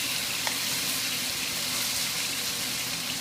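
Steak searing in a pan with butter, thyme and garlic, a steady, close, even sizzle and hiss running unbroken throughout with no talk.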